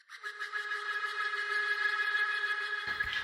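A sustained synthesizer tone from a preset called Broken Flutter, with a rapid fluttering, wavering texture, holds steady for a few seconds, then cuts off abruptly with a brief noisy tail.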